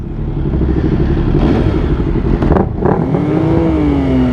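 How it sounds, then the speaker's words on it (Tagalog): A motorcycle with a loud drip exhaust drones steadily at close range during a ride. Its pitch shifts and rises toward the end, with no talk over it. "Siyempre, napakaingay ng drip exhaust ni Isa."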